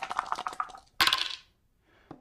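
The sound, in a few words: dice rolled in HeroQuest board game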